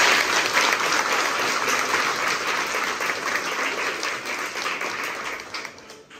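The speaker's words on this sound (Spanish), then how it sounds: "démosle un fuerte aplauso al Señor por animarnos" A congregation at Mass breaks into loud, sustained applause, a thick wash of clapping that holds steady and slowly fades near the end.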